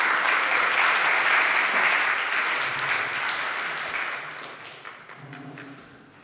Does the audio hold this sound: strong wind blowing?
no